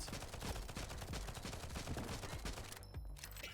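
Rapid, repeated gunfire from a pistol in the game NIMRODS: GunCraft Survivor plays as a dense, steady stream of shots over busy game sound, with no voices.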